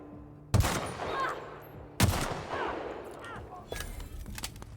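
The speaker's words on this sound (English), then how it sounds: "I do enjoy a sniper rifle." Two heavy sniper rifle shots in The Outer Worlds, loud close cracks about 1.5 seconds apart, each trailing into a rumbling echo, followed by scattered lighter in-game clatter and faint background sound.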